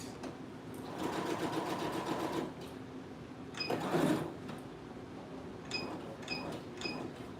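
A sewing machine back-stitches skirt fabric, its needle motor whirring in short bursts with pauses and small clicks in between, close by and with no talking.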